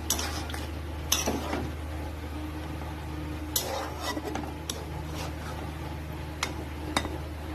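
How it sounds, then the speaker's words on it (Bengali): A spoon stirs paneer curry in a pan, giving irregular scrapes and light metallic taps over a steady low kitchen hum, fairly close, with no talking. "পনিরটা দিয়ে দিলাম, দিয়ে ভালো করে কুচিজ করে দেবো।"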